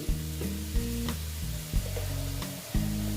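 Ground coriander frying in a pan for a banana flower curry, with a steady close sizzle interrupted by periodic scraping stir strokes and a low hum running underneath.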